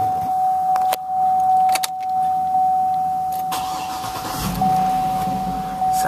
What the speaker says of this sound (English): open the door so you can hear it start